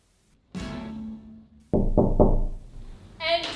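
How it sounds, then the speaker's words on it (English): Three quick knocks land on a door in a stage setting, firm and close, after a held sung or hummed tone, and a brief higher tonal sound follows. "just knock on the door."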